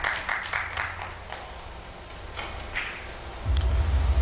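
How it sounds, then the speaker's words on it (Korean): Audience applause breaks out in the stands at a professional three-cushion billiards match in the PBA championship: a burst of scattered clapping that thins out, with a low rumble of hall noise rising near the end. "관중석에서 박수가 나왔어요."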